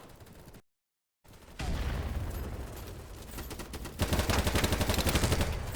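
M4A1 rifle gunfire in the Battlebit Remastered video game, rapid automatic bursts of loud shots after a brief gap of silence, growing denser and louder toward the end.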